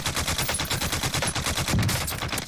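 Rapid automatic LMG fire in Warzone on Rebirth Island, a dense unbroken stream of loud close shots with a steady rhythm throughout.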